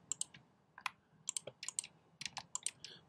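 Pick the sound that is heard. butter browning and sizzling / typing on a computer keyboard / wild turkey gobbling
typing on a computer keyboard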